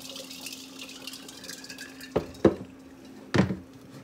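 Water drained off boiled potatoes for mashed potatoes, a soft trickle punctuated by three brief sloshing splashes near the end.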